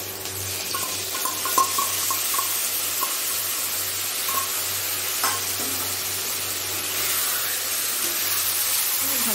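A ground paste of garlic, ginger and cumin with salt and turmeric frying in a pan for mutton curry, a loud, steady hiss with intermittent stirring scrapes close by, no voices.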